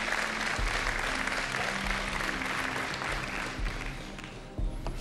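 A live TV studio audience in Hungary bursts into sustained applause, dense and steady clapping filling the room for about four seconds before thinning out, with a brief final flurry near the end.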